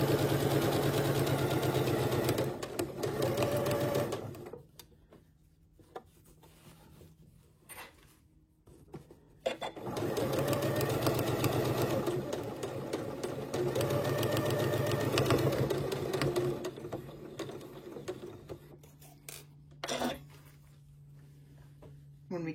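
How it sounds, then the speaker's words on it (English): A sewing machine stitches down the side of two aligned fabrics in a steady, close mechanical whir. It runs in two long stretches with a pause between, and a voice talks over it. "stitch down the side of my 2 fabrics, making sure that the raw edges are aligned"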